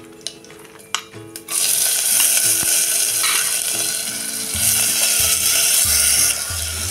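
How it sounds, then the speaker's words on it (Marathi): Washed dal lentils hit hot oil with fresh curry leaves in a pan. After a few metallic clinks, a loud, continuous sizzle takes over, with stirring and scraping under the frying. "डाळ बघा चांगली तेलात परतून झालेली आहे।"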